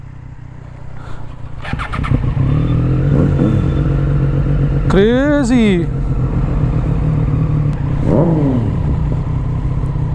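A Triumph Street Triple motorcycle with an aftermarket SC Project exhaust idles with a deep, loud rumble, then revs sharply a couple of times with a raspy exhaust bark; a voice speaks briefly.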